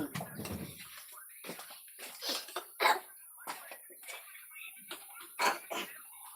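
Several short coughs scattered among quiet background murmuring, with a sharper, louder cough burst near the end.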